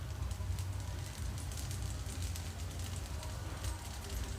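Ragi utappam batter cooks in an oiled pan on a stove at medium flame, giving a soft, steady sizzle with faint crackles throughout, quiet and close.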